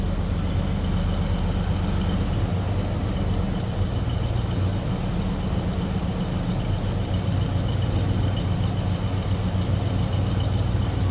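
A steady, low engine rumble from a 1987 Chevrolet R10 Silverado pickup truck idles continuously at close range, with a faint higher hum above it and no talking.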